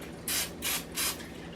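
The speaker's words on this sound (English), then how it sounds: "Do you spray the pan with turkey bacon?" Cooking spray hisses onto a pan in three short, close bursts separated by brief pauses, before turkey bacon is cooked.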